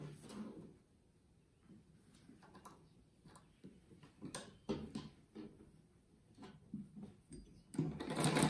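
A sewing machine stitches a seam joining two panels of a handmade fabric rug, its motor whirring in short uneven bursts with soft clacks between runs, growing louder near the end.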